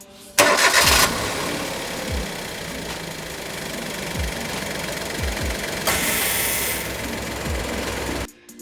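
A car engine cranks and starts with the air conditioning switched on, then settles into a moderately loud idle with a few low knocking thumps as the AC compressor engages.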